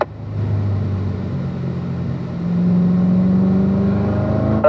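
A car on the Spring Mountain race track accelerating out of a corner, its engine drone rising steadily in pitch and loudness as it pulls hard toward the dip, loud and continuous from inside.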